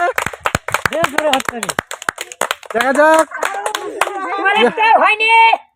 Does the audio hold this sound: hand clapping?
yes